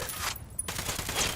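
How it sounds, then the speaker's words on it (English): Gunfire in the shooter game Ghost Recon Wildlands, with rapid automatic bursts close and loud, a brief gap, then sustained firing through the rest of the moment. "I'm opening fire."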